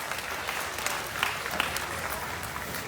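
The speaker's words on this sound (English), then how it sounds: "let's give these young people a nice round of applause for the class-winning gilts here in this first division" Audience at a junior crossbred gilt livestock show applauding class-winning gilts, a steady wash of clapping from a crowd heard from a distance with no voices on top.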